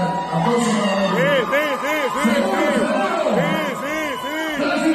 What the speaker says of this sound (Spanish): Aplausos para la gente.